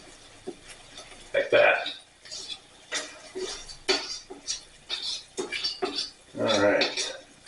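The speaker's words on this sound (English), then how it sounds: "Your garlic, take your spoon and just smush it." A spoon presses and smushes garlic against a dish, making clinks and scraping, squishy bursts spread through the stretch while a person speaks briefly.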